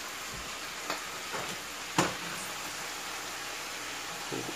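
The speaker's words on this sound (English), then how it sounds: "Potatoes are frying." Italian potatoes frying in a pan, a steady close hiss and sizzle with a few small pops and clinks from the pan, fairly quiet, no talking.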